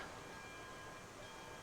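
A heavily loaded locomotive in a train operating game hauls a long lumber train at a crawl, giving off a steady, continuous low rumble and rolling drone with no break and no voices.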